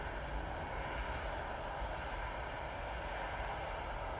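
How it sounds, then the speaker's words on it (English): An Etihad Airbus A350 on final approach to Manchester Airport's runway 23 right, a steady, loud engine roar and rush of air continuing unbroken throughout, with one tiny high click near the end. "Etihad A350 is on final now for 2-3 right"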